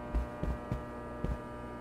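Overhead lights in the Escape the Backrooms video game give off a steady low electrical hum with faint rhythmic thumps pulsing underneath, quiet and continuous with no talking.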